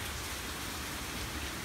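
Steady summer storm rain pours down in South Carolina, a dense, even hiss of drops hitting surfaces with no pauses or voices.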